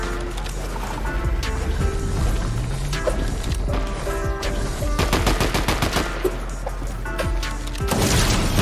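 Rapid bursts of gunfire from a battle royale video game, dense and loud, with overlapping shots and music-like tones throughout and a heavier volley near the end.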